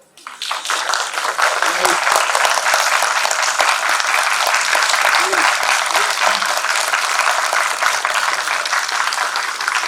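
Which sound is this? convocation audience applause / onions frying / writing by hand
convocation audience applause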